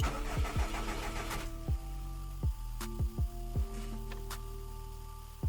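A stock Subaru WRX fitted with a Cobb Accessport starts up: repeated starter cranking pulses with stepping tones, followed by the engine catching and settling into a steady idle, close and clear.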